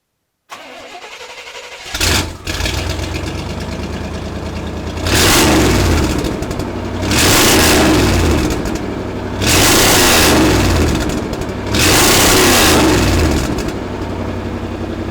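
A K5 Blazer with a custom stainless true-dual Z-pipe exhaust starts up loud and close, then settles into a rough idle broken by four strong revs, each swelling and falling back.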